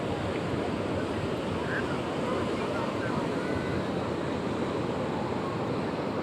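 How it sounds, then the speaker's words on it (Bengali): Surf rolling in at Cox's Bazar, the world's longest sea beach, near Sugandha and Labani points: a steady, loud wash of breaking waves with wind rushing over the microphone, continuous throughout. "বিশ্বের ভিতরে দীর্ঘতম সমুদ্র সৈকত কক্সবাজার"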